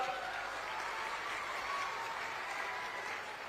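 A large crowd at an Amit Shah political rally in Nanded claps loudly and steadily, a dense wash of applause that holds without pause and carries no talking.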